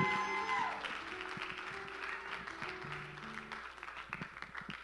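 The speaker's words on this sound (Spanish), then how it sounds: "de un grito de júbilo y dale un aplauso al Señor" Church congregation applauding and calling out in joy, a moderate patter of clapping and scattered shouts, fairly distant, with a sustained tone from instruments or a sound system early on that fades away.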